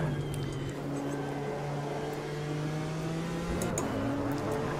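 A BMW M4 GT race car engine in the video game Automobilista 2 hums steadily at a sustained pitch, fairly quiet and even, with brief whining rises near the start and end.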